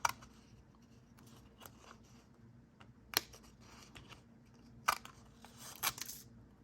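Scissors snipping orange paper while tracing a shape for a scrapbook tree, a few sharp, isolated close-up cuts and rustles separated by quiet pauses.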